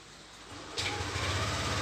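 A 2020 Yamaha NMAX scooter is started by phone voice command; a quiet hum gives way to a sudden start and a steady close idle that continues to the end.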